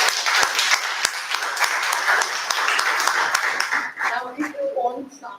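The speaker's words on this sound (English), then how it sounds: "let's give Taran a good round of applause." A Toastmasters club audience in Bangalore claps for a member, a moderate patter of individual claps heard up close that fades near the end as a voice begins speaking.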